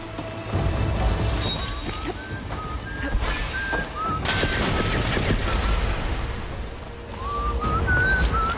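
Gunfire in a video game on a hostile Earth, bursts of loud, continuous shooting with whistling projectiles and crashing impacts, dense and close throughout.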